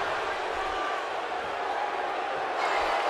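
A simulated arena crowd roars through a WWE 2K17 wrestling match between Seth Rollins and Floyd Mayweather, a steady, distant wash of noise that swells slightly at the end.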